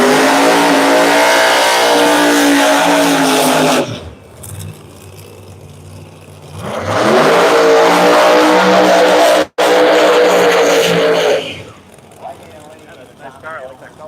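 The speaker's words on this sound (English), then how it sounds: "the beautiful 2018 Camaro Pro Mod" A 2018 Camaro Pro Mod drag race car idles loudly with a deep, rough engine note, then revs hard in two long bursts separated by quieter stretches, close by at a drag strip.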